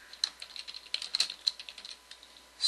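Rapid, light clicking of computer keyboard keys in an irregular typing rhythm, close and fairly quiet, ending in a brief louder burst.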